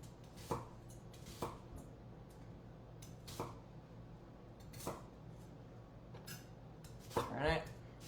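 Knife chopping tomatoes into coarse chunks on a board: sharp, separate cuts spaced about a second apart, then a quicker cluster near the end, close and clear, with faint kitchen ambience and no talking.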